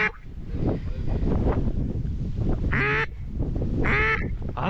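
Ducks quacking outdoors on a cold, snowy, windy winter morning during a duck hunt, two loud raspy quack bursts near the end over wind noise, with someone talking quietly.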